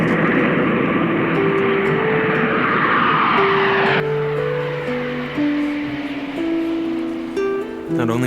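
An airplane roars through its takeoff, a loud sustained engine rush that stays strong for the whole stretch, with steady tonal hums layered over it like a music or effects bed.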